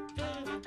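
Cartoon frog croak, a single drawn-out nasal, oinking call lasting under a second, rising in loudness toward the end.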